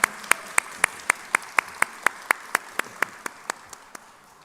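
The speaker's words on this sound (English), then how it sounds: "give a huge round of applause for both the OGs here" Crisp, evenly spaced claps, about eighteen sharp hits at a steady brisk tempo, welcoming guests at a Tollywood interview with Ram Charan. The claps are close and distinct rather than a blended crowd roar, with a quiet room behind them.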